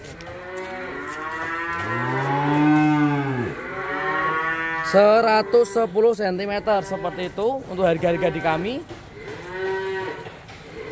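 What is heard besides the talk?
Limousin and Simmental cattle mooing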